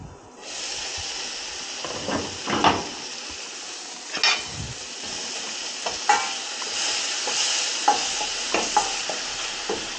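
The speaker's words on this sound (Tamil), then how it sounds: "எண்ணெயிலேயே தக்காளி நல்லா வதங்கி அந்த எண்ணெய் கொஞ்சம் வெளியில் பிரிஞ்சு வரணும்" Tomatoes sautéing in oil for a crab curry, a steady sizzling hiss with intermittent stirring scrapes and pan clatter, fairly close and continuous, with no voices.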